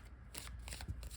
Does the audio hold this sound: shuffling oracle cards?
yes